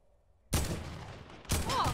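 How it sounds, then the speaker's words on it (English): Gunfire in the Fortnite video game, two loud sudden bursts of shots close up, the first lasting about a second, the second following right after, with no talking. "He's shooting at me."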